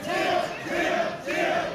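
Wrestling event crowd roars and chants in loud rhythmic bursts, a dense mass of many voices swelling and dipping three times at close range.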